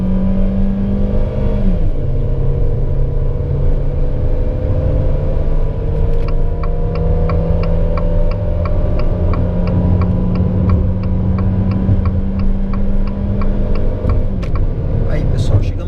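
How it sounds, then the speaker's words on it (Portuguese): A Fiat Cronos HGT accelerates uphill at full throttle, its engine droning steadily and climbing in pitch through a gear change, loud and continuous inside the cabin beneath a voice talking. "Vamos acelerar tudo e vamos ver como é que ele responde."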